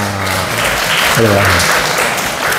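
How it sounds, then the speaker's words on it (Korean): A church congregation bursts into warm, steady applause lasting a couple of seconds, a dense clatter of many hands filling the room while voices murmur and call out underneath. "박수하겠습니다."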